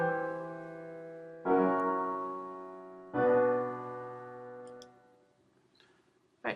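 Piano chords resolving to an incomplete tonic chord with tripled root and third, three sustained chords struck in succession, each ringing and decaying, played alone with no talk.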